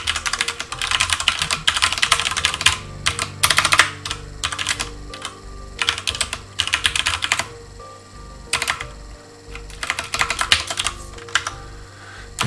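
Rapid typing on a computer keyboard while writing a REXX program on a mainframe, sped up so the keystrokes run together in dense bursts with short gaps, close and clear with no talking.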